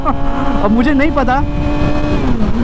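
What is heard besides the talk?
Hayabusa and Yamaha R6 motorcycles revving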